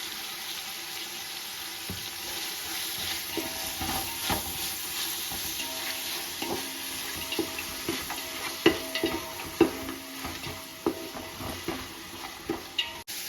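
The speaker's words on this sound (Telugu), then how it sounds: "ఇప్పుడు ఆనియన్స్ త్వరగా వేగిపోవాలంటే కొంచెం ఉప్పు వేసేసుకుందాం." Onions sizzle in oil with salt for mutton biryani, a steady hot frying hiss broken by scraping stirs and sharper clinks of a spoon against the pan, growing more frequent toward the end, no speech.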